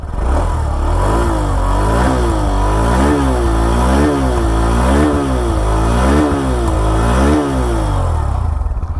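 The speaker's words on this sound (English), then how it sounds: "Let me give a bit of a throttle to know the exhaust note" A Hero Glamour X 125 motorcycle engine idles nearly silently and is revved repeatedly, the exhaust note rising and falling in steady throttle blips for several seconds.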